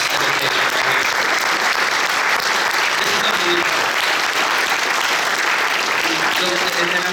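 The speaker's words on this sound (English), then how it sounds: "let's give a round of applause" A dense, steady round of applause fills a meeting room, many hands clapping at once and holding at a constant level, with a voice faintly under it.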